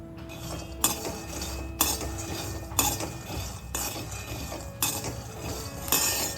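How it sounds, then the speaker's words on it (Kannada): Peanuts dry-frying in a pan are stirred with a metal spoon, giving regular sharp scraping clinks about once a second over a low rattling rustle, close and without talk. "ಚೆನ್ನಾಗಿ ಫ್ರೈ ಮಾಡ್ಕೋಬೇಕು ಕಡಲೆ ಬೀಜನ."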